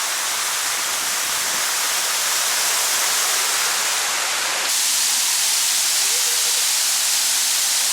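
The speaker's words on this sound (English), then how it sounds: "Fort Worth Water Gardens" Broad steady rush of cascading water at the Fort Worth Water Gardens in Texas, a dense continuous hiss that stays even and loud throughout, with a slight shift partway through and no clear voices.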